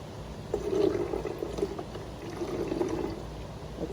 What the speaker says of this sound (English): So I'm gonna pour some of this one in here.